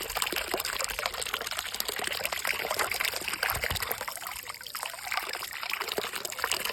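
Water runs continuously from an outdoor pipe while food such as rice and peas is washed, a steady close trickling and splashing stream with no talking.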